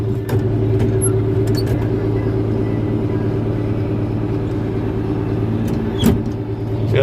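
A vehicle engine labors uphill while towing a trailer behind it, a steady low rumbling drone held throughout with a faint rattle near the end.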